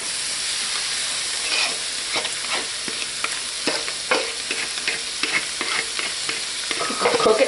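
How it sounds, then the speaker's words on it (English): Cabbage and onions fry in a hot pan with melted fat, giving a steady close sizzle broken by scattered clicks and scrapes of stirring, with no talk. "Put the cabbage and the onions in here."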